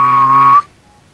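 Someone whistles a single loud, steady note imitating a duck for about half a second, then stops abruptly, leaving near silence before a brief noise at the end.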